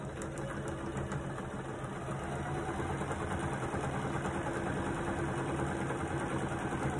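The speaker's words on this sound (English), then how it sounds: "So I'm going to sew this all the way down at a 1/4 inch" A sewing machine stitches a quarter-inch quilt seam down a row, a continuous fast mechanical whir and rattle at moderate level with no talking.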